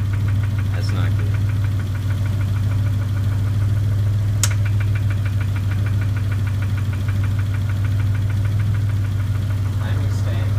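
Dodge Stealth engine running with a steady low throb, a rapid metallic knock and a light bent-valve tick repeating throughout, close and loud, with a couple of sharper clicks over the top.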